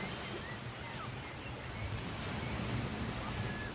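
Video-game ambience of a ship tossed by sharp gusts and squalls, a steady roaring wash of wind and surf that rises slightly toward the end, with no distinct creaks.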